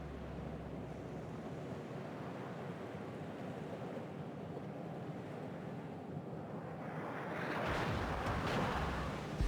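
A warship's engine pushed to forced speed in World of Warships gives a steady rushing, surf-like roar throughout that swells louder near the end, with no talk over it.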